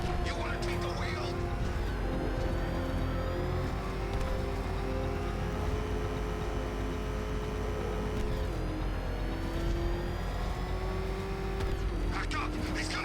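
Batman's car in Batman: Arkham Knight drives with a steady engine roar that rises and falls in pitch, close and continuous throughout, while voices talk over it.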